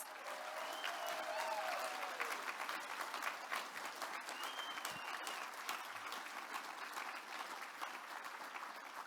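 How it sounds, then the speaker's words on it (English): Steady applause fills a hall at a cultural diversity awards ceremony, sustained clapping from the audience for the award nominees, fairly distant and even in loudness throughout, with a little crowd murmur mixed in. "let's give them all a very well-deserved round of applause"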